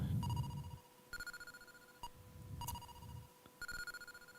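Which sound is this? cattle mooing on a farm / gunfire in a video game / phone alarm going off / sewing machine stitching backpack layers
phone alarm going off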